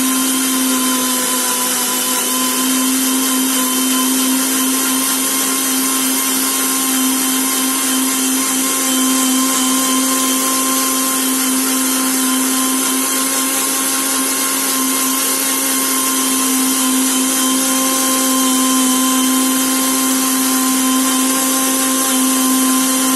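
A mixer grinder runs continuously, blending muskmelon into a milkshake with a loud, steady motor whine and no letup, no voices over it.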